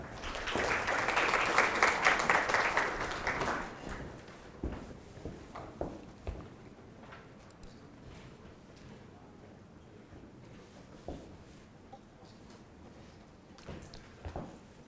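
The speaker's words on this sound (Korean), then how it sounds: "박수 부탁드리겠습니다." Audience applause at a plant and shipbuilding industry conference in Korea fills the first few seconds loudly, then fades into scattered claps, footsteps and faint room noise.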